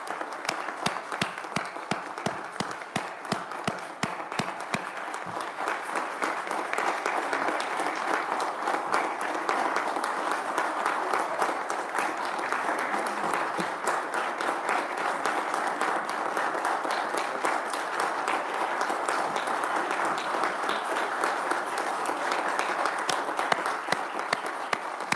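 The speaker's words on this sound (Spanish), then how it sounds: "Así que les pido ese fuerte aplauso a esos colegas." A sustained, steady round of applause from an audience honoring murdered journalist colleagues, with dense continuous clapping at even loudness throughout.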